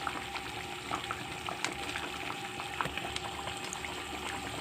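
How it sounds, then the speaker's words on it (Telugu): Traditional fish pulusu simmering at a steady boil in a pot on the stove, with a dense, continuous bubbling and popping at moderate volume and no voices. "పులుసు బాగా మరిగిపోయిందండి"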